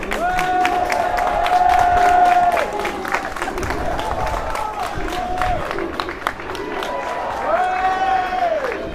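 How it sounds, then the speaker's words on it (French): A crowd of protesters at a Paris labour-law demonstration applauds and cheers an elderly woman on her balcony, with clapping in steady bursts and voices shouting and chanting over and between them. "Elle est applaudie par tout le public qui est présent ici."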